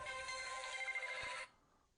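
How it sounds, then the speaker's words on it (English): A mobile phone ringtone rings loudly with a bright, steady electronic melody, then cuts off abruptly after about a second and a half, leaving near silence. "That was my phone, folks."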